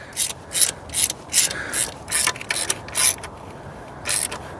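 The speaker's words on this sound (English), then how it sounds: "Let me grab the ratchet and see if we just a little extra torque might help" Hand ratchet tightening a valve cover bolt on a 2005 Nissan Altima 2.5L four-cylinder engine, a close series of about ten quick clicking bursts in an uneven rhythm.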